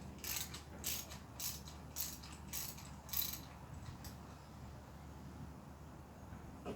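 A ratchet snugging spark plugs on a Mercedes W204 C350 engine, a close series of quick, crisp clicking bursts that come in short runs and then thin out, with no one talking.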